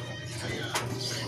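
A racing pigeon coos softly and close by, a low repeated throaty murmur in a quiet setting.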